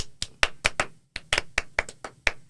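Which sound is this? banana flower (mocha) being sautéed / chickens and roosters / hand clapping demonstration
hand clapping demonstration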